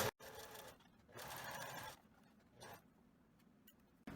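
A sewing machine runs a straight seam on wide elastic fabric in short bursts of quiet, buzzing stitching with brief pauses between, faint and close.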